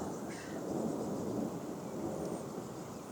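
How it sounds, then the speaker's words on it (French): Continuous rolling thunder rumbles through a violent thunderstorm with rain and sleet in Carpentras, Vaucluse, a broad sustained roar with no voices. "Le tonnerre, il est permanent"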